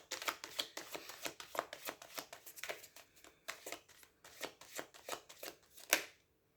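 Tarot cards shuffled by hand in quick, crisp riffling bursts, close and fairly quiet, repeating steadily for several seconds before stopping, with no talking over them.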